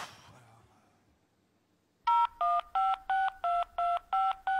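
Telephone keypad tones dial a social security number, eight crisp, evenly spaced beeps in a steady rhythm after a short quiet pause, loud and alone.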